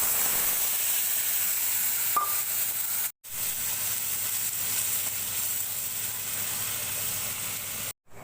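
Chili powder, Kashmiri chili powder and coriander powder frying in hot oil in a home kitchen give a steady, close broadband sizzle with no voices, broken by two brief dropouts.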